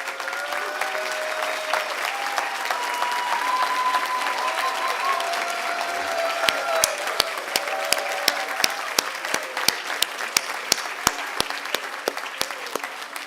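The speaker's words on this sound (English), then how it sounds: "please stand for applause" Steady applause from a sizable crowd at a health sciences education class day ceremony, with a few sharp, loud individual claps standing out near the end.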